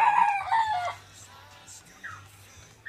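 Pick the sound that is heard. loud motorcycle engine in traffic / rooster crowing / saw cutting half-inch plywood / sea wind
rooster crowing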